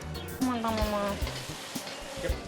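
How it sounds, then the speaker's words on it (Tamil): Onion, carrot and beans sauté in oil in a kadai for restaurant-style veg fried rice, a close steady sizzle with knocking stirs and a brief faint voice. "இந்த மாதிரி கிளறி விட்டு நல்லா வந்து வதக்கி எடுத்துக்கோங்க"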